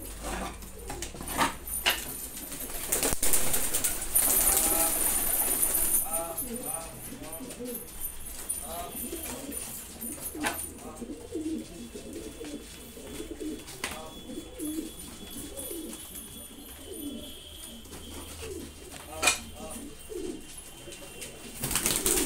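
Soft pigeon coos and wingy bird calls repeat through the scene as pigeons are let out of their coop, mixed with outdoor background noise and occasional voices nearby.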